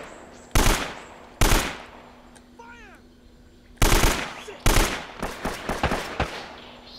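An AK rifle fires in Uncharted: Drake's Fortune as several loud, close automatic bursts broken by short pauses, the later bursts running as rapid chattering shots, with faint chirping in the quieter gaps.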